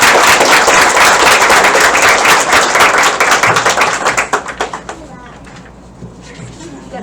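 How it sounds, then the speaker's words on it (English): Audience applause at a college honors night, a loud dense burst of clapping that gradually thins into scattered claps and dies away, with a few voices in the room. "can we have one more round of applause,"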